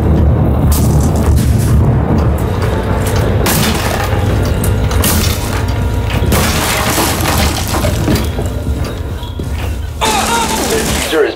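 An explosive charge goes off in a video game amid dense, loud gunfire, with repeated cracks, booms and shattering that continue for the whole stretch.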